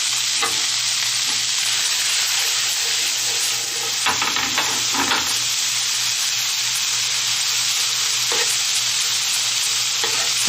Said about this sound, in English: And we'll add our peas and carrots to the mixture.